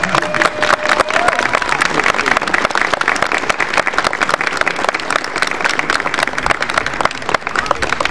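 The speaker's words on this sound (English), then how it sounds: "This is where you applaud." Crowd at a 23rd Royal Welch Fusiliers military display at Raglan Castle applauds steadily for about eight seconds after a general salute, dense clapping carrying across the open-air audience with talk mixed in.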